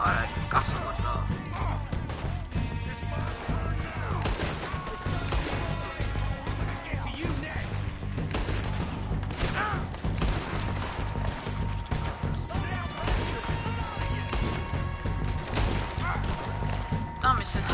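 Gunfire in Red Dead Redemption 2, a dense, continuous stretch of shots and crashing impacts with a music bed underneath, steady and loud throughout while someone talks over it.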